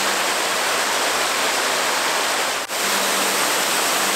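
Blaen Y Glyn waterfall in Bannau Brycheiniog national park on a rainy day pours in a loud, unbroken rushing roar close by, with one brief dip near the end.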